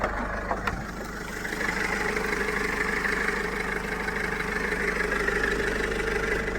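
A 2005 Mercedes W211 with the OM646 diesel engine idles nearby, a steady low rumble after a brief clatter at the start, running alone without talk.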